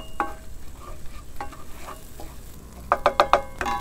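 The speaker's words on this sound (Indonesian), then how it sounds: "Ini numis bumbu ini, bumbu halus nih ya, harus benar-benar matang" Ground spice paste for Bangka fish noodles sautés in a pan, a soft sizzle under close scraping and clattering stirs that bunch into a quick run of clanks near the end, with no talking.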